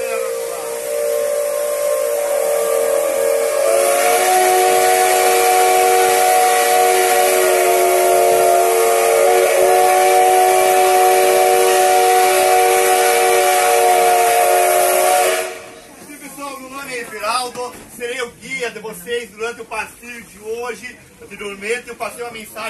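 A Maria Fumaça steam train on the Serra line between Corupá and Rio Negrinho sounds a long, loud, steady whistle for about twelve seconds over hissing steam, then the whistle stops and a person talks.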